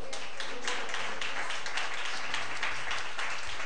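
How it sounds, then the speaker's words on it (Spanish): A church congregation breaks into applause for Christ, a dense, even wash of many hands clapping continuously at moderate level throughout. "Dale un aplauso a Cristo."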